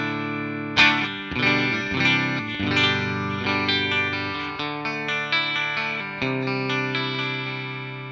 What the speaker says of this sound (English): Clean tone on the bridge pickup sounds like this.